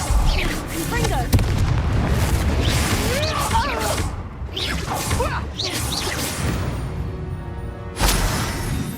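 Confringo blasting-spell explosions in Hogwarts Legacy, with repeated whooshing bursts and booming impacts layered over game music and a voice, with another loud swelling blast near the end.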